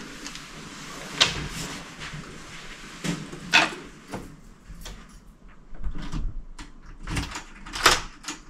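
A door swinging shut indoors at home, several knocks and clunks of the door and latch scattered through the clip against a quiet room, with a sharper thud near the end.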